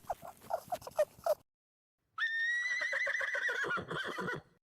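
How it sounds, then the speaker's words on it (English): A horse's hooves clop in a quick run of steps, then after a short silence the horse gives a loud, close, drawn-out whinny that wavers and breaks into shorter snorting bursts before fading. "horse,"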